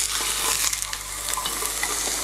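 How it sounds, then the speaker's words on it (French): Chicken sears under a lid in a pan over medium heat, making a dense, continuous sizzle with light crackling pops, close and fairly loud, with no voices. "Ça commence déjà à saisir."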